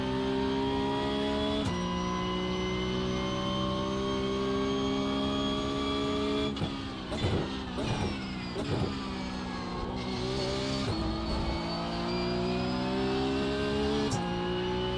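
Race car engine in the iRacing sim holding a steady high drone with harmonic whine, dipping and rising through several quick gear shifts and throttle lifts mid-run, loud and continuous throughout.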